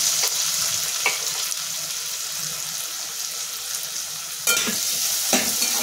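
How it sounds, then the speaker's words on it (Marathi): Onion, bay leaf and ginger-garlic paste fry in a pan for a mixed vegetable soup, giving a steady close sizzle with stirring scrapes and clatters throughout and two sharper stirring bursts near the end. "हे आपल्याला छान फ्राय करून घ्यायचे, खूप जास्त गोल्डन होईपर्यंत फ्राय नाही करायचे।"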